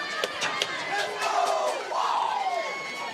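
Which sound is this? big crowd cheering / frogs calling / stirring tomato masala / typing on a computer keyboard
big crowd cheering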